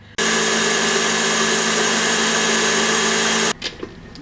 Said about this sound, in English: So you just want to whisk this until it becomes nice and fluffy.